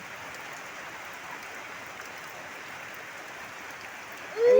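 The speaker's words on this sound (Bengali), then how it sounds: "এখন মুসুলধারে বৃষ্টি নেমে পড়েছে" Heavy monsoon downpour pours steadily in a dense, even hiss of rain on surfaces, unbroken for the whole stretch, with a brief louder swell of noise at the very end.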